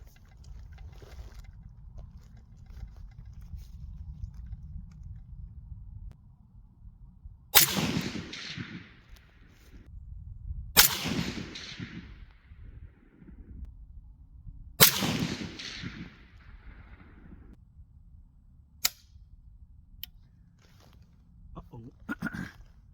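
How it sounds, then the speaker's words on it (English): Rifle fired with 168 grain Sierra bullet ammunition, three sharp reports spaced a few seconds apart and a fainter fourth, loud and close, over low rumbling background and handling noise. "let's shoot 5 rounds of 168 grain AAC in the Sierra bullet"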